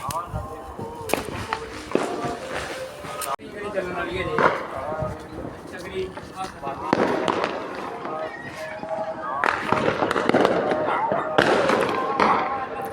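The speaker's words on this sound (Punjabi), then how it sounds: "ਆ ਪਿਆ ਆਪਣਾ ਪਟਾਕਾ ਸਿਆ" Sharp firecracker bangs pop repeatedly amid a noisy crowd during Diwali night in a village, with people talking and shouting throughout.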